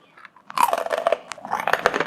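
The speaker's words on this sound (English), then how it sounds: "They're really nice and crunchy." Crunchy pork cracklings bitten and chewed up close in a salad, giving a loud burst of dense, crackling crunches with no talking.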